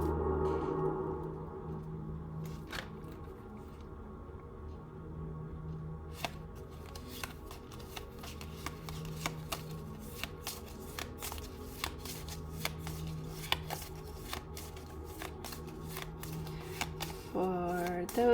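Hands shuffling a deck of cards, the sharp riffles and snaps coming in quick irregular bursts close by against a quiet room, with a soft low hum beneath.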